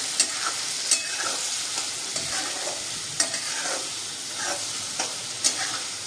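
Minced mutton rakti is stirred in a hot pan, giving a continuous close sizzle broken by scraping strokes and occasional sharp clicks of the spoon against the metal.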